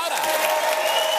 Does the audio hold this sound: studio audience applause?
yes